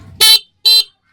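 A car horn sounds twice while being tested during installation of a passing light: two short, loud, near honks with a brief gap between them.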